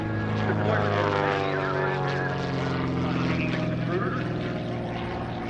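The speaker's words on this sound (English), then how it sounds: "That's open cockpit airplane" A propeller airplane drones steadily overhead, a loud, even engine hum with a faint rising and falling pitch.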